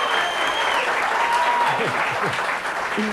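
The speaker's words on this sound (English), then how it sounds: "Big contingent on hand cheering for you today." Studio audience at the Hoosier Millionaire game show cheering and applauding a contestant, a steady dense roar of claps and shouts lasting a few seconds, with a voice cutting in near the end.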